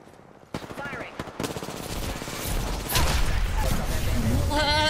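Rapid automatic gunfire in the Apex Legends video game, loud and continuous sustained bursts that build in intensity, with a voice speaking briefly at the start.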